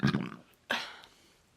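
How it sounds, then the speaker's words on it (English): Two loud burps from a person come close together, one short and rough and the next a brief abrupt belch, each fading quickly into quiet. "I just know how to burp really loud."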